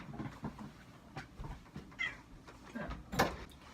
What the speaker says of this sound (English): Sorry, had to let Cat out. She was pissed